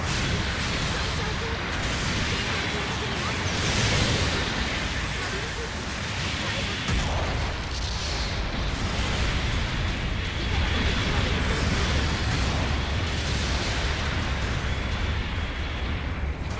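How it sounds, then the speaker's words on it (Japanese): An artillery bombardment in the game Gundam Battle Operation 2 produces a dense, continuous roar of rumbling explosions and blasts, loud and sustained without distinct gaps, with muffled voice-like noise mixed in. "砲撃が来ます。"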